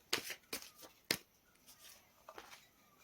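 Tarot cards shuffled and drawn by hand, a few sharp riffling bursts and soft slaps spread over a few seconds, close and quiet with no voices.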